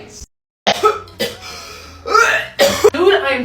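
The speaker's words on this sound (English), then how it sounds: "I am tired of hearing you cough." A person coughs several times in short harsh bursts separated by pauses, one brief silence early on, with throat-clearing mixed in, close and fairly loud.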